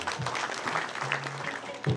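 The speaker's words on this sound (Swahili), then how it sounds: "Karibu, tupigie makofi." A gathering at a memorial service for the late Jane Martha Wanjiku Kinyanjui gives brief, moderately soft applause, a short burst of clapping with a voice briefly audible underneath.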